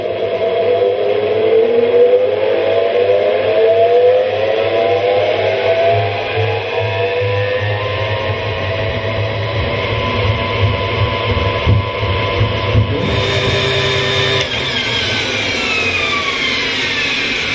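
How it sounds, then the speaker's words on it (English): An electric motor drives a honey extractor, spinning frames of comb at high speed on a frame-hive apiary in Africa; a steady, loud mechanical hum with whining tones that climb in pitch as it spins up. "When the electric motor is switched on, the frames are spun at high speed."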